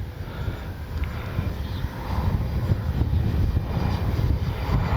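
A Kavan Bristell B-23 RC scale plane drones overhead in strong wind, its engine a steady low rumble mixed with gusty microphone buffeting that grows slightly louder toward the end.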